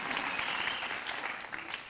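Steady, dense audience applause fills the room at a Listen To Your Mother live storytelling show in Maplewood, NJ, a continuous wash of many hands clapping at moderate distance.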